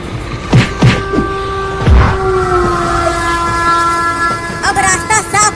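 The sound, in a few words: train rushing past in a cartoon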